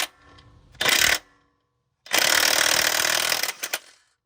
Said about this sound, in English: I'm just going to go ahead and crank it without holding the pulley